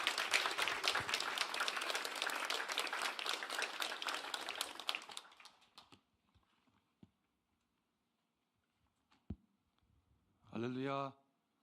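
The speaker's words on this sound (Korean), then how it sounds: "우리 목사님 나오실 때 큰 환영의 박수로 목사님을 맞이하겠습니다." A church congregation applauds in welcome as a pastor comes forward at a special revival service; dense clapping fills the first five seconds, fades into near silence with a few faint taps, then a short spoken phrase follows.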